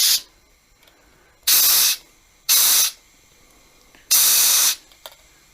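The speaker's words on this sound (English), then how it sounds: "So I'll be punching out CO2." CO2 gas is released from a beer keg to purge oxygen, giving four sharp, loud hissing bursts, each lasting about half a second, with quiet pauses between them.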